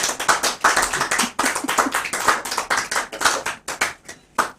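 Loud applause from a crowd during a talk-show or news discussion, a dense run of many hands clapping that swells and fades over several seconds, with a few isolated claps trailing at the end.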